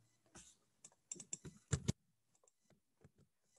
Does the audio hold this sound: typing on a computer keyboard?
yes